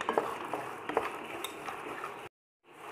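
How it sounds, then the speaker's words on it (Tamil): Unpeeled garlic cloves frying in a pan for garlic podi, a quiet sizzle with light clicks and taps of a utensil stirring, ending abruptly in a short silence. "அதே பேனில் பூண்டை சேர்த்துக்கிறேன்."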